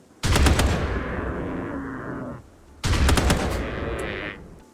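Two long bursts of rapid shotgun-style gunfire in RimWorld, a magic-wielding character's abilities cast as shotgun bullets, each burst loud and sustained for about two seconds with a short gap between.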